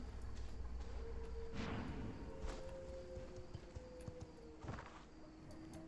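Horse hooves clopping in the V Rising game, a steady walking beat of muffled thuds under ambient outdoor noise, with occasional sharper impacts and a faint sustained tone.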